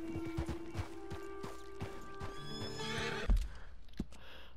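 A horse in Red Dead Redemption 2 whinnies loudly and at length over a rapid, steady clip-clop of galloping hooves, ending in a sharp crash and a few scattered thuds.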